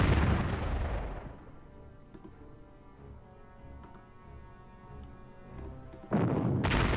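Artillery fires in the Panzer Corps wargame: a heavy booming shot fading into a long rumbling decay, then a second loud blast starting abruptly near the end.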